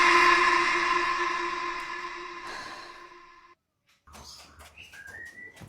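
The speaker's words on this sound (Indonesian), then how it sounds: "Bawa burung siapa itu, Mas?" Chirps and short whistled bird calls from a pet bird in a home, coming after a loud sustained tonal rumble that cuts to silence; the bird's bright, scattered calls are fairly close and clear.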